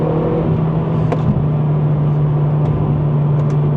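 A Mercedes A45 AMG engine hums at a steady, low drone, heard from inside the car with faint whirring and no voices.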